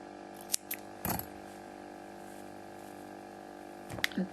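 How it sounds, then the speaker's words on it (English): Scissors snip crocheted yarn after a beanie with ear flaps is finished. Two or three short, crisp cuts come close against a quiet room hum. "cutting off our yarn"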